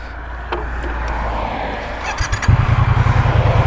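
A 2024 Triumph Bonneville T120 motorcycle pulls away in first gear, its engine a steady close rumble that turns into a rapid, pulsing throb as it accelerates toward the end.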